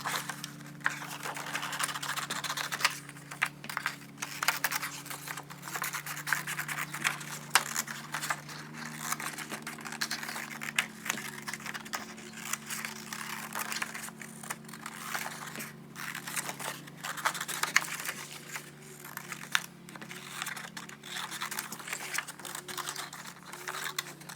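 Scissors snip and paper crinkles continuously as paper game pieces are cut out, played back sped up into a dense, busy stream of small crisp clicks and rustles at close range.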